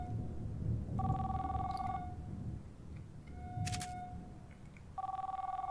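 Telephone ringing in Contagion VR Outbreak, a VR video game: a ringing burst of about a second, then a brief high electronic chirp, then ringing that starts again near the end, all over low background noise with no talk.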